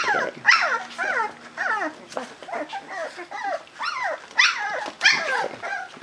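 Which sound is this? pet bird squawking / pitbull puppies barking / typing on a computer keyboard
pitbull puppies barking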